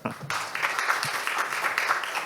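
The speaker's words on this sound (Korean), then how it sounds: "박수로 맞아주십시오" Steady clapping from a symposium audience welcoming the session chair, a dense even patter that rises suddenly after a brief quiet start.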